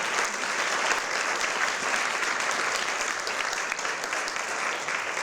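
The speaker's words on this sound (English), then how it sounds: "let's give a big round of applause to our panelists today" Sustained, loud applause from a summit audience for panelists at an education session, steady clapping throughout with no talk over it.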